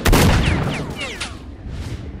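A single heavy shotgun blast in STALKER: Shadow of Chernobyl, a loud sharp boom at the start that rolls into a decaying echo with whistling debris-like tails, no talking over it.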